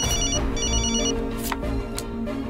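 A telephone rings in a steady electronic ringtone pattern, close and clear with no voices over it.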